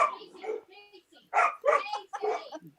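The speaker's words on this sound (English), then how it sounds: "Yeah, it's the dogs." Several dogs barking and yipping in short bursts indoors in a noisy house, fairly close, mixed with people talking over them.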